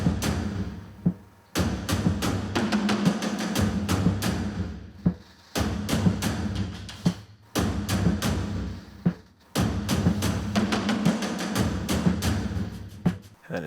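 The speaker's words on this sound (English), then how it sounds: "but all the drums together sound like this" Several layered Addictive Drums patches play together in a loud, dense groove of repeating hits, dropping out in short gaps roughly every two seconds before resuming.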